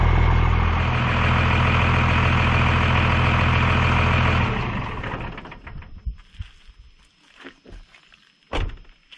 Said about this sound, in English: You can hear the rumble of that exhaust in the truck.